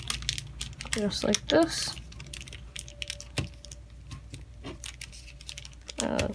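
Paper for an origami Venus flytrap crinkles and creases in short bursts of folding close by, with a person talking between the rustles.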